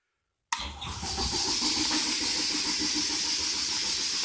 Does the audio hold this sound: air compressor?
yes